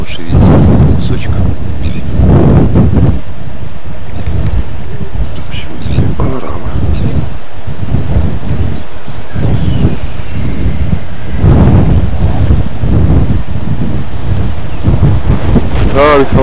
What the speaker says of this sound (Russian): О, на ветру хорошо, под ветрами.